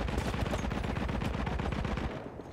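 Rapid automatic gunfire from the Battlefield 1 video game runs in a fast, steady rattling burst, dense and loud from start to finish.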